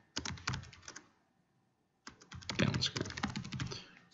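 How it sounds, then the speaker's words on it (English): Fast bursts of clattering keystrokes on a computer keyboard while entering text into basketball play animation software, two quick flurries separated by a second of silence, close and crisp. "so we type that in there"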